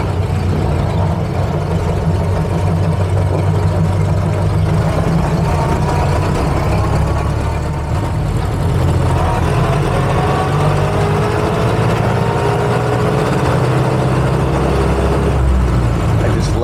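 An old 1930 Ford Model A Tudor sedan engine runs loudly and steadily, with a rising whine of gears as it moves along, close and continuous.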